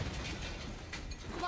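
Weapon reload in the Valorant video game: a quick run of mechanical clicks and ratcheting metal action over steady gameplay background, moderately loud and continuous for about a second and a half.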